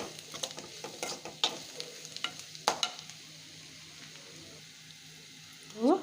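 Mashed boiled potatoes being added to a pan and stirred for an aloo evening snack, with scattered close scrapes and soft thuds, then quieter sizzling and a brief louder scrape at the end, with no talking.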